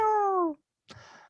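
A human voice imitating a cat, giving one long falling meow followed after a short pause by a second, rougher and quieter meow.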